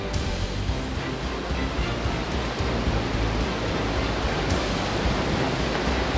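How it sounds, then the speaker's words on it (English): A steady, thunderous roar of falling water, broadband and unbroken, from a massive Icelandic waterfall flowing 200 cubic meters per second into a 44-meter canyon. "the biggest European waterfall with a flow rate of 200 cubic meters per second, bottoms out into a 44-meter canyon"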